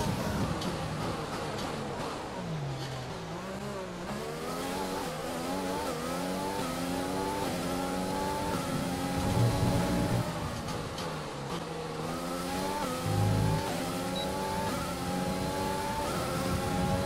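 An F1 race car engine from the F1 2020 video game at the China practice session whines through repeated upshifts and downshifts, revs rising and falling steadily for the whole stretch at close range.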